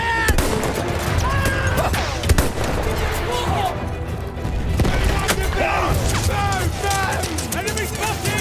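Rifle and machine-gun fire in a Gallipoli beach battle in the Battlefield 1 video game, loud and continuous with distant booms and shouting voices mixed throughout the din.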